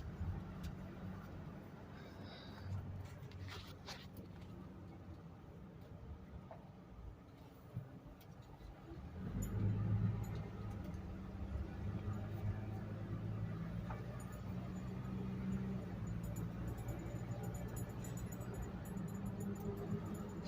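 A 2006 Ford F450 pickup with a V10 engine rumbles steadily while driving, its low drone swelling around the midpoint as it shifts gears, then holding at a constant level. The engine sound is continuous and fairly loud, with no talking over it.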